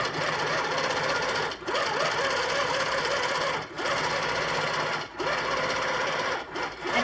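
Quilting machine stitching a pattern at reduced speed, a continuous close mechanical whir and rapid needle chatter with brief dips every couple of seconds, loud and steady.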